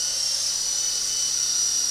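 Small Intercepter 052 RC helicopter hovering close by, a steady high-pitched motor whine with a thin rotor buzz that holds level throughout, nothing else heard.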